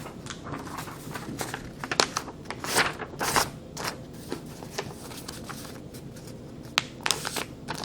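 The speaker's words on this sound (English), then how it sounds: "Okay, I'm going to go ahead and get a new paper." A sheet of paper is handled at a school desk, making soft rustling and crinkling with scattered sharper flicks over about eight seconds. It is close and fairly quiet, with no talking.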